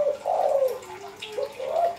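Zebra dove (perkutut) cooing in a few soft, rolling phrases, close and alone, with a pause between two bursts of calls.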